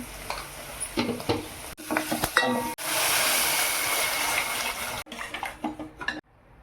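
Potato fry with spices being stirred in a pan, with spoon scrapes and clinks over a steady sizzle, a loud continuous burst of hissing in the middle, then more scraping before it cuts to near silence.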